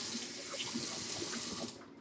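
Water poured from a tap into pancake batter, a close, steady trickling and gurgling that fades slightly at the end, no voices over it.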